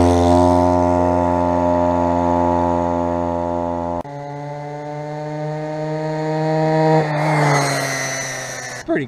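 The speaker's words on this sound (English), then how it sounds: "This is one of those little motorized scooter things. Just got a little bitty engine in it" A small motorized scooter with a tiny engine buzzes with a steady, close, high-pitched drone, its tone dropping and rising as the throttle changes.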